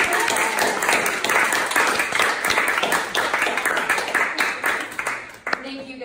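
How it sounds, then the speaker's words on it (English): Applause from the audience at the close of an artist talk, fairly loud and steady clapping with voices mixed in, tapering off at the end. "Can we clap?"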